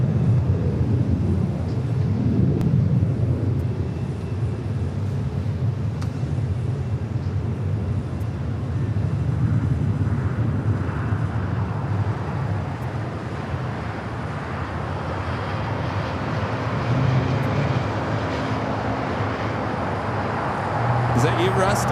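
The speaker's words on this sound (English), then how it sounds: "you got the United 757-300 touching down here on the south side" A United Boeing 757-300 touches down on the south side at LAX, a steady broad roar of engines and wind rising slightly toward the end, heard from a distance under ongoing talk.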